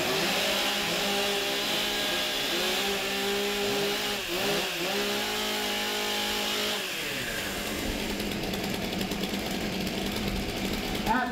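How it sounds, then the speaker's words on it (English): Several chainsaws revving and idling together before a professional timbersports race, a dense, loud whining drone with rising and falling engine pitch that drops to a rougher idle near the end. "Warm up your saws."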